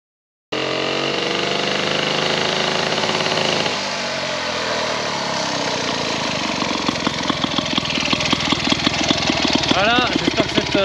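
A Monet Goyon Z147 2HP vintage motorcycle engine runs steadily and loudly, its pitch shifting as the machine pulls through second gear, with a faster, rattling firing rhythm building toward the end; a voice talks briefly over the engine.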